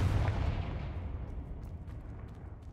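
Confringo fire spell explosion in Hogwarts Legacy on PS5, a single deep boom that rolls off into a fading rumble, loud and alone.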